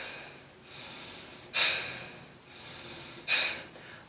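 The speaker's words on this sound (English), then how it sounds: "Mindful inhale through the nostrils and a mindful exhale through the nostrils, done in dynamic but not forceful manner in equal intervals, rhythmical intervals" Bhastrika pranayama breathing through the nostrils: strong, hissing nasal breaths come at steady intervals of under two seconds, with softer airy breaths between them. The breathing is close and quiet, and no one speaks.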